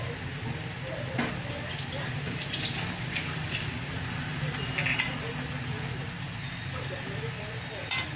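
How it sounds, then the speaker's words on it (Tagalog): A little water is poured into a saucy asado filling seasoned with oyster sauce for putopao, a steady close splashing wash lasting the whole stretch, with a voice talking faintly underneath. "Lagyan natin ng konting tubig muna."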